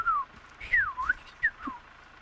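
A person whistling imitation bird calls: a few short, rising and falling chirps and trills with brief gaps between them, fairly faint and close, against a quiet room.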